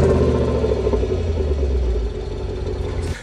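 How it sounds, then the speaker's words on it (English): A 2019 Jaguar F-Pace SVR runs in loud exhaust mode after starting, a deep, throaty exhaust rumble, close and loud, settling slightly as it idles. "the loud mode, you push the start button, you push the little exhaust button on the center console"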